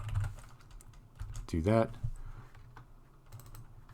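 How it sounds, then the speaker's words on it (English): Quick, irregular clicks of typing on a computer keyboard during a programming lecture, close and light, with a short spoken phrase breaking in midway. "Man, I'm having trouble typing today."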